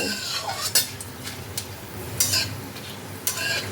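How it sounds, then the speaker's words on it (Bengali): Whole garam masala is stirred in hot oil in a pan for bhuna khichuri, with a few sharp spoon scrapes and clinks spaced out over a low, steady sizzle. The pan is near and no one speaks. "সব কিছুকে তেলের মধ্যে দিয়ে সুন্দর গন্ধ বের হওয়া অবধি একটু নাড়াচাড়া করে নেব।"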